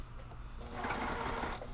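A sewing machine runs continuously, its motor whirring steadily and picking up a brisk mechanical chatter partway through, close and fairly loud, with no talk.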